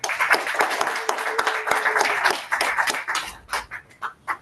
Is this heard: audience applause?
yes